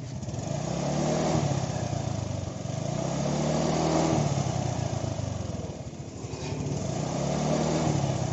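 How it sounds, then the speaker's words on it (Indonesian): A motorcycle engine revs close by as the throttle is twisted, rising and falling in repeated surges over a steady running drone. "Apa yang terjadi ketika saya menarik gas motor ini?"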